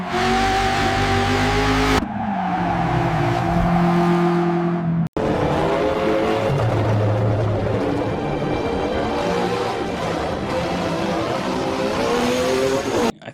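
A race car on a track, its loud engine howling through rising and falling gear pitches, with tire squeal and abrupt cuts between shots, steady and close throughout.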